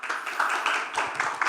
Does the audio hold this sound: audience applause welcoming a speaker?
yes